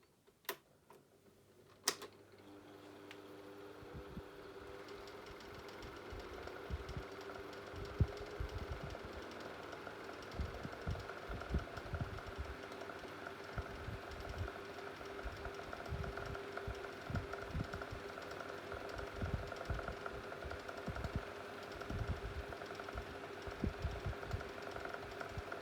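Several 9 inch desk fans switched on together: a faint click at the start, then motors spinning up into a steady humming whir with a rapid fluttering tick, running unbroken without talk.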